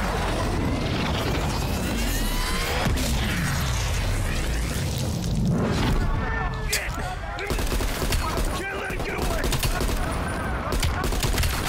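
Sniper rifle and other gunfire crack repeatedly in a shooter video game, dense bursts mixed with metallic weapon mechanisms and booms throughout, while a person talks over the action.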